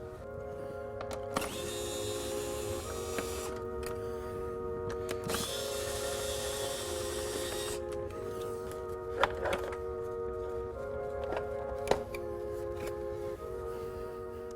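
A power tool whirs in several bursts while bolts are backed out of an engine cover bracket on a C8 Corvette with an LT2 engine, the high whine rising and stopping between short pauses and a few metallic clicks.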